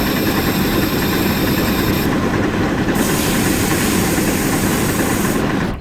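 A Shay steam locomotive in the game Century of Steam works steadily up a grade in a loud, continuous mechanical rumble with a faint clickety rhythm, steady throughout with no talk.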